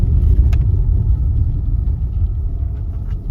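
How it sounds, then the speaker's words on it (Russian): A scheduled bus passing on a road, a loud, deep engine rumble held throughout at close range with a steady low drone and no voices. "мы тут прямо с рейсовым автобусом встречаемся"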